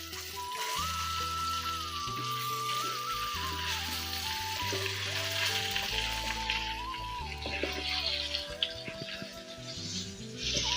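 Ivy gourd pieces frying in a masala seasoning on low heat, a steady crackling sizzle throughout with occasional stirring scrapes and clinks, close and moderately loud, with background music tones running underneath and no speech.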